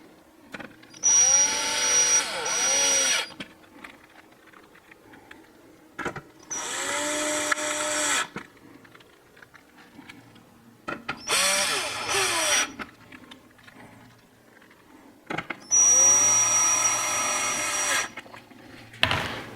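A power drill drives screws back into a Vizio TV on a workshop bench, four separate bursts of high whining spin, each a couple of seconds long, with quiet gaps between.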